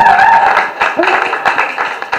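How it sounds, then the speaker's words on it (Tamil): Audience at the opening of a dance school branch in Chennai gives a burst of clapping and applause, close and fairly loud, with scattered claps, cheers and voices mixed through it. "பெரிய கைத்தட்டல் கொடுங்க"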